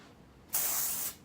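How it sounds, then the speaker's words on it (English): A single aerosol burst of Amika PerkUp dry shampoo, a bright, close hissing spray lasting about half a second before cutting off, alone against quiet room tone. "Let's spray it first."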